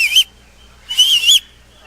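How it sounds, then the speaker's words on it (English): A person whistles two short high-pitched notes, the second longer and wavering, clear and close with silence between them, while playing a video game. "I can whistle apparently."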